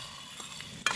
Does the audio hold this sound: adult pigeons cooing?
no